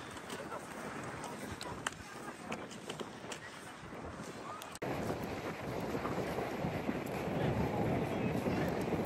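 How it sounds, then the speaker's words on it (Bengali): Wind whooshes across the seashore at Plage de Breck, France, a steady broadband roar that swells louder and rougher partway through, buffeting close to the microphone. "সমুদ্রের পার যে আইছি, কি শন শন শব্দ, আর এত শীত লাগতেছে বাতাসটায়"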